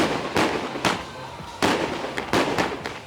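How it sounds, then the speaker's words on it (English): Fireworks going off outside a nightclub in Sunny Beach, Bulgaria. Several sharp, loud bangs come at irregular intervals, each ringing out briefly over a noisy outdoor background. "They set some fireworks out in front of the nightclub here."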